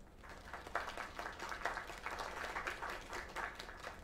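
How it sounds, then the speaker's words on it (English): Sustained applause from an audience, a dense patter of many hands clapping at moderate volume, steady throughout without voices standing out. "Another round of applause."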